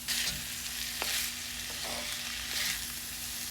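Red noodle beans being stir-fried with onions and dried chilli, Kerala style: a steady close sizzle of frying with intermittent scraping and stirring clicks, no talk.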